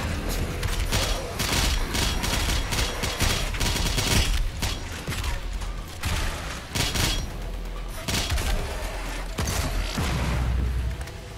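Heavy gunfire from the video game Doom Eternal rattles in dense bursts with booming blasts and mechanical clanks, loud and near, with brief pauses between volleys.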